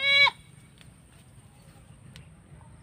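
A goat on a ranch gives a short bleat at the very start, close by, then only faint outdoor background with a couple of soft distant ticks.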